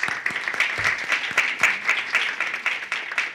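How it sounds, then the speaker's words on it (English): An audience at a student research day applauds the student researchers, with brisk, fairly even handclaps in a short burst at moderate loudness. "So let's give them a round of applause."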